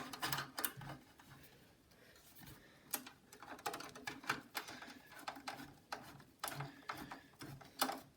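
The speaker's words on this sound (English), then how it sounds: "The screws in. I'm just screwing the other one." A screw is driven into a computer, heard as faint, close, irregular clicks and ticks of a screwdriver turning.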